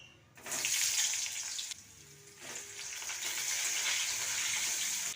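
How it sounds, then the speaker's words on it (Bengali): Potatoes and ridge gourd fry in oil in a pan, a steady hiss that briefly drops near the two-second mark, then returns, with no voices. "এবার এই তেলটাতে আলু আর ঝিঙে ভেজে নেব"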